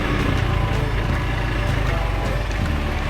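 A motorcycle rides along an island road, its engine a steady low drone with rushing wind noise throughout, close and continuous without pauses.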